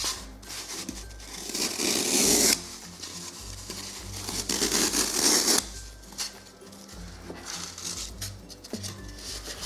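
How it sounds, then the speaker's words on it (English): A butter knife slices the corners off a block of floral foam in bursts of close, gritty scraping and crunching, with quieter handling noises in between. "I'm just going to use the butter knife and cut them down"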